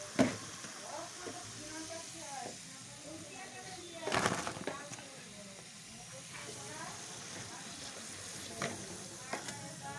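Thin potato strips for aloo jhuri fry in hot oil, giving a steady soft sizzle and hiss with occasional louder crackles as pieces are stirred or lifted; a voice talks over it.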